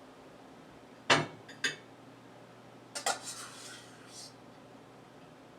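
A utensil scrapes and clinks against a pan as rice is spread into an even layer, a few sharp metallic taps and short rubs, quiet and close, with a brief word spoken.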